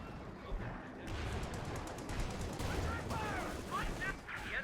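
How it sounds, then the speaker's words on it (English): Artillery barrage pounding a Sherman tank in Company of Heroes 2, a dense run of repeated explosive gunfire thumps with sharp cracks, loud and continuous through the stretch, with no talk over it. "As the Sherman eats a barrage"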